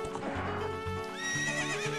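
A horse neighing in the video game Zelda: Ocarina of Time, a shrill whinny rising and wavering over a background music loop with low hoof-like thumps, close and clear.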